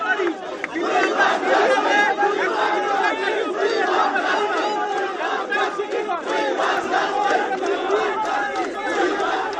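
Protesters in Kolkata clashing with police during a baton charge over a doctor's rape-murder case: a loud, unbroken roar of many voices shouting and yelling together.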